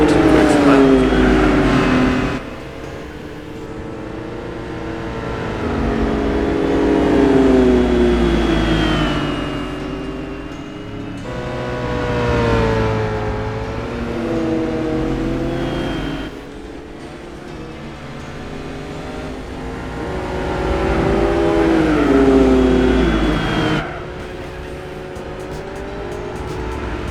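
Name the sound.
race cars driving in video game Gran Turismo 4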